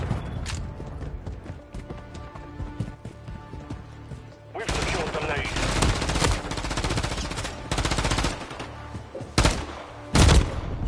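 Gunfire in Call of Duty Modern Warfare 3 multiplayer on the Vista Del Mar map: loud bursts of automatic rifle fire and sharp single shots, with a few louder blasts near the end.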